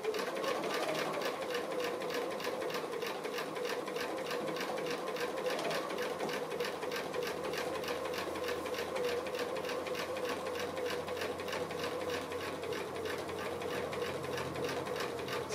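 A sewing machine runs steadily through free-motion stitching on fused appliqué, a rapid, even needle clatter that goes on without a break and sounds close. No one speaks.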